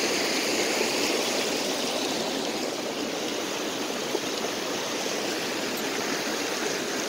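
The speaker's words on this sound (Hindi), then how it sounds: "ये जो पानी का बहता हुआ जो कलकल करती हुई जो आवाज़ है, इट्स वेरी ब्यूटीफुल" A mountain river flows near Nainital with a steady, close rushing and babbling of water that holds an even level throughout, with no voices.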